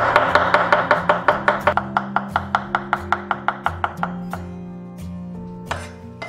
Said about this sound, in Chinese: 然后改刀切丝，尽量就是越细越好